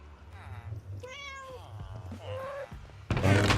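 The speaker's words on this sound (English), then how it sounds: "That's not a cat dying in my iron farm" A cat in a Minecraft iron farm meows in a rising, drawn-out cry, a second shorter meow following, over a low background hum, then a loud thunk near the end.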